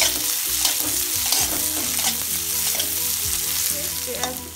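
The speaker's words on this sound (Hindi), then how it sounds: "अब हम इसमें प्याज डाल देंगे। प्याज भी थोड़ी देर फ्राई करेंगे।" Onions frying in a pan for an aloo fry, a steady loud sizzle with occasional stirring scrapes throughout, no voices.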